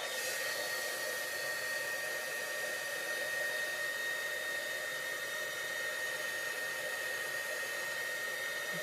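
A hair dryer blows on ink during ink smooshing, producing a steady, loud, close whirring rush with a constant whine that runs unbroken and unchanged from start to finish, with no voices.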